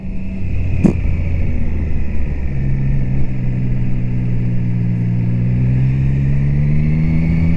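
A Triumph Trident 660 motorcycle engine hums while riding, a loud steady rumble with the pitch gradually rising as it accelerates, no talk over it.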